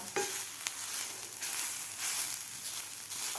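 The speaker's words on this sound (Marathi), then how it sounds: "आता हे सुद्धा आपल्याला दोन ते तीन मिनिट परतून घ्यायचं आहे मिल्क पावडर घातल्यानंतर" Grated carrot with milk powder is sautéed in a pan, giving a soft steady sizzle with light stirring scrapes, close and fairly quiet.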